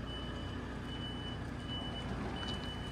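A lorry reverses nearby on a farm, its high reversing beeps repeating in short spaced bursts over a low engine drone.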